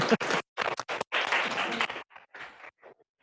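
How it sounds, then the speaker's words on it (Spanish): Applause from a group of workshop participants for their colleagues at an assessment center exercise, a few seconds of clapping in bursts that thin out toward the end. "Un aplauso, por favor, para los compañeros."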